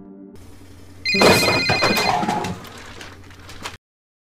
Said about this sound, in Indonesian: dering ponsel membuat 3 pria termasuk saya kaget bukan kepalang